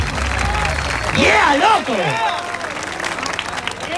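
Audience at a Spanish-language freestyle rap battle erupts in loud applause and whoops, with an excited voice shouting over the crowd noise before the clapping thins out into background chatter.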